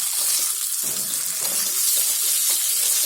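Grated potato sizzles as it roasts in a pan for a batata halwa fasting sweet, a continuous bright frying hiss with faint stirring scrapes, close and steady.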